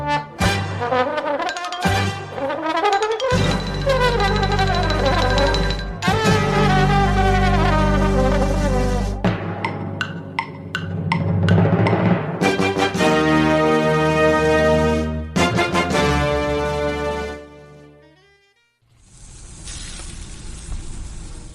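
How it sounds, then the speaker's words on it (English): Bright instrumental music plays for most of the clip, then gives way to a few seconds of steady, hissing sizzle of dry-aged USDA Prime Wagyu and Angus steaks searing. "That's the sound of sizzling, dry-aged USDA Prime Wagyu and Angus steaks"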